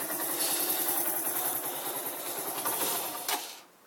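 A motorcycle engine idling on a cold start, a steady rapid chugging pulse that stays even for several seconds, then falters and drops away as it nearly stalls, with no talk over it.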